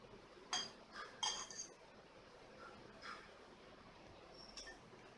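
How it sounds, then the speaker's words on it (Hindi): An appe pan is covered after batter is poured into its moulds, giving a few faint metallic clinks and clanks of lid and cookware, spaced apart over a quiet kitchen background. "तो इस तरीके से हम सारे ही खाँचों में घोल डाल के इसको कवर कर देंगे।"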